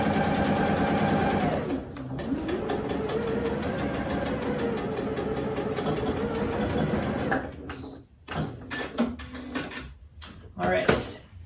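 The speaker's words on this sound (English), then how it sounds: "And we're just sewing across here." A sewing machine hums steadily as it stitches across a face mask seam, then slows and stops with a few short bursts and clicks, while a person talks over it.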